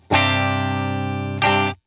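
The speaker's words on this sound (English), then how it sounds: "I'll just bypass the pedal so that we're only hearing the dry guitar first" Dry electric guitar with the C4 synth pedal bypassed: one sustained chord rings for about 1.3 seconds, then a second strum rings briefly and is cut off. The playing is clean, close and loud, with no one speaking.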